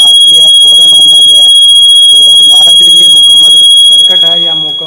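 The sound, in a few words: motion sensor security alarm sounding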